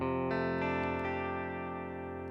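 A Korg Pa5x keyboard plays a clean, straight guitar sound with no chorus or delay, a sustained chord rich in overtones, changing twice early on and then ringing steadily.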